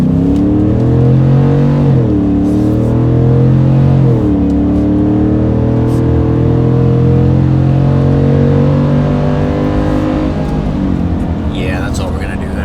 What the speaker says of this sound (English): start some downshifts, and it sounds just like a big V8 should